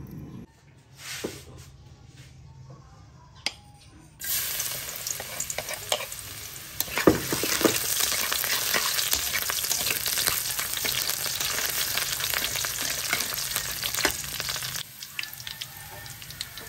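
Garlic fried rice (sinangag) with plenty of garlic sizzles steadily in a pan, with a spatula scraping and stirring through it; the frying grows loud and continuous for about ten seconds before easing off.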